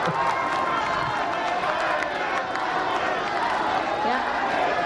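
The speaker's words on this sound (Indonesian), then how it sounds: "Boleh sekarang tepuk tangan," Crowd cheering and clapping from the audience at the 2019 Indonesian vice-presidential debate, a loud continuous roar of voices and applause filling the space throughout.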